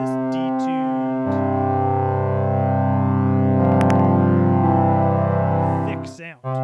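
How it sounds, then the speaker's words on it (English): A thick, buzzy synth tone holds a sustained chord with a wide, slightly wavering chorus shimmer, then cuts off abruptly at the end. "this is just a square wave with some unison"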